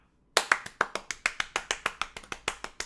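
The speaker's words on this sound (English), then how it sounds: "Here's your applause now." A small group of cast members claps together in a quick, fairly even burst of about fifteen sharp hand claps, close and moderately loud, starting abruptly after a short silence.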